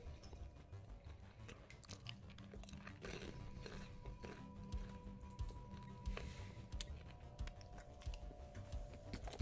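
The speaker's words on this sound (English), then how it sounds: "Huge bite of popcorn." Popcorn bitten and crunched close to the mic in a series of chewing crunches, set against steady background noise from a streaming setup, with no voices.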